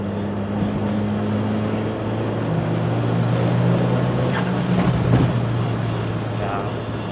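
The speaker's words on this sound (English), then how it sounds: "you can hear the wind buffering" Wind buffets loudly and steadily inside a Toyota Starlet Glanza V at driving speed, a continuous roaring rush layered over low engine drone throughout.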